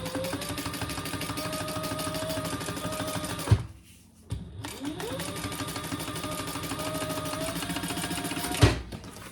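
Sewing machine top stitching a bag seam, a fast steady mechanical whirr running close up, pausing for about a second with a thump, then starting again.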